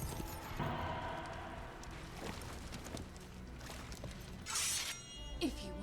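A horse gallops in a film scene, its quick hoofbeats blended into a dense, loud wash of rushing noise and soundtrack that continues throughout.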